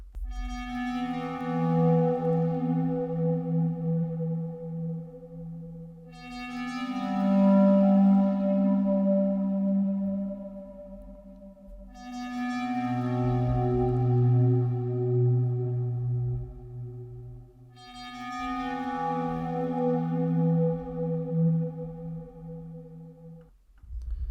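Four long, dark synth chords from the Serum preset Metallic Coal swell and sustain one after another, each with a metallic, ringing shimmer that slowly fades.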